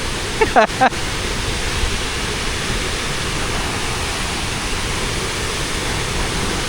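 Ukshi Ranpat waterfall, seen close up in the rainy season, roars as a steady, dense wash of falling water that fills the whole clip, with a brief bump of handling or a voice near the start.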